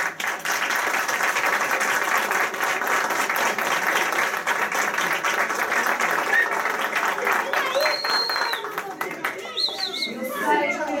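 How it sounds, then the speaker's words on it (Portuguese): A crowd at a football club's 93rd anniversary celebration applauds steadily, dense clapping filling the room for several seconds before tapering off with scattered claps and murmured chatter. "A todos, um forte aplauso."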